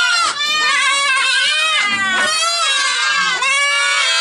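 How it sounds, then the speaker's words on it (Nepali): Goats in a shed bleat loudly and close, several overlapping wavering cries running continuously for about four seconds. "एक्कासी बाहिर गोठतिरबाट बाख्राहरू च्याखिएर कराउन थाले"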